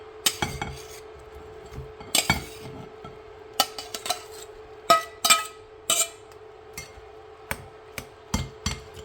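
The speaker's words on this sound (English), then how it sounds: "I'm going to transfer this into a bigger bowl" Seafood egg roll filling scraped and tipped from a pan into a bigger bowl, a series of sharp metallic clanks and knocks of utensil on cookware, irregular and close, over a faint steady hum.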